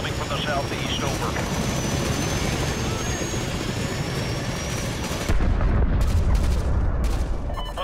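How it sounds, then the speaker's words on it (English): Enemy helicopter gunship approaching in the video game Modern Warfare 2 Remastered, a dense, loud rotor and engine roar that swells and grows heavier midway, under battlefield noise and radio chatter. "We've got an enemy helicopter loaded for bear approaching your area."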